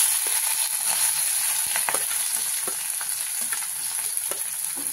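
Onion frying in hot oil with mustard seeds and cumin seeds already in the pan, giving a loud, dense, continuous sizzle up close, with a few faint scraping strokes and no talk.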